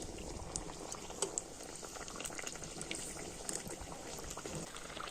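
Pitha frying in hot oil gives a steady, low bubbling sizzle throughout, fairly quiet, with a few small pops.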